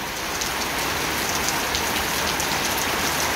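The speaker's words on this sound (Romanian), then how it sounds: "ați beneficia și de grindină" Hail falling during an Easter 2023 storm in a garden with fruit trees, a steady dense patter of pellets striking surfaces, constant and fairly loud throughout.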